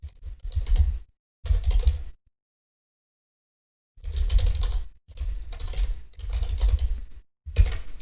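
Computer keyboard clattering as a short email reply is typed, several loud close bursts of rapid keystrokes separated by a couple of seconds of silence, no voices.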